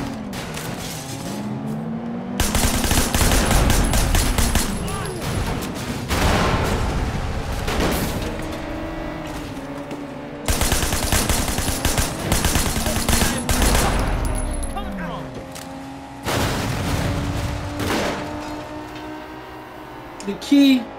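Bursts of gunfire aimed at car tires in Sleeping Dogs, loud volleys in several separate waves mixed with engine roar and vehicle noise, while a voice talks in between.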